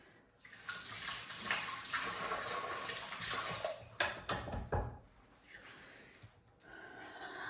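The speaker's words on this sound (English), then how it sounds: "I'm just going to wash my hands off on the top." Hands washed under a running kitchen tap beside a wood-burning stove, a steady splashing stream with a few louder bursts as the hands move, then the flow eases, no speech.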